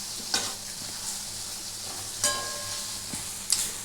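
Palm fruit fritters (taler bora) frying in hot oil, a steady close sizzle broken by a few sharp spatula clinks and stirs.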